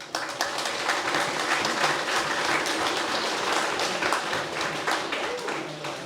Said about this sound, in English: So a big round of applause to each and every one.